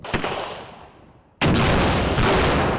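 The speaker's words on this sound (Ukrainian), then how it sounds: "Рідко та мітко дрібні постріли автоматів та кулеметів перебиває гранатомет." Assault rifle, machine gun and grenade launcher fire during a National Guard reservist training exercise: a few sharp shots, then a sudden heavy blast with continuous loud gunfire rolling after it.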